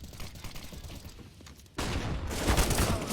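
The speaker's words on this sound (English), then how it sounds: "All kinds of grenades coming their way" Gunfire and grenade blasts in Counter-Strike on the Vertigo map: a muffled stretch of distant shots, then an abrupt loud burst of close firing and detonations that stays dense to the end.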